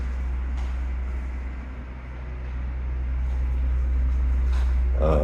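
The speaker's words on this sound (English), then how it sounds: "The 4-inch exhaust has been added through the wall, and generator is running right now." A generator vented through a 4-inch exhaust in the wall of a house under construction in the Philippines runs with a steady low hum, heard from the living room, constant and moderately loud, with no talking.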